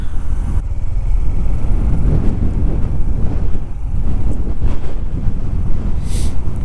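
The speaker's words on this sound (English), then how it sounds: "This wind is still really bad." Heavy wind buffets the microphone while a CT125 motorbike rides through Normandy, a loud continuous rumbling roar with gusty swells and no speech.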